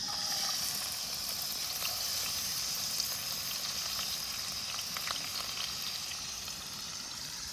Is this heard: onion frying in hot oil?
yes